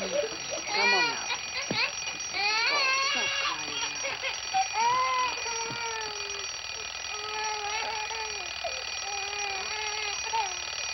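A ringing alarm clock in a bedroom wake-up scene from a 1960s comedy film. It trills and warbles steadily and fairly loudly, mixed with other tonal sounds, for about ten seconds.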